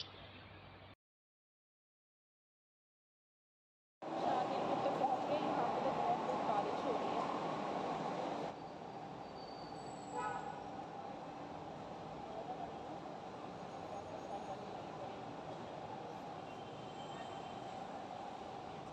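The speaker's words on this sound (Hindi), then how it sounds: "यहाँ मेट्रो आ रही है" After a short silence a Delhi Metro train roars into the station loudly, its rushing rumble easing into a steadier, quieter hum as it slows at the platform.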